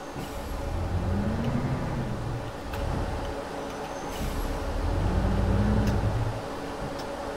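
A Renault Karosa or articulated MAN bus in the OMSI 2 simulator pulls in to its final stop in heavy snow, its engine a low, steady drone that swells, eases and swells again, with faint clicks.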